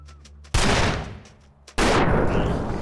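Two loud, close gunshots in the survival game The Long Dark, each a sharp blast with a long ringing decay, about a second apart, in otherwise quiet surroundings.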